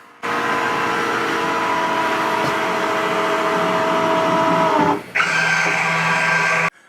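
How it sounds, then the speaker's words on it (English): The powered windshield of a 2023 Chris Craft Calypso 35 boat rises with a steady close electric motor whir that dips briefly near the end, then resumes at a higher tone before stopping; no talking. "hit the button right here, windshield up. And notice how it locks into the hardtop."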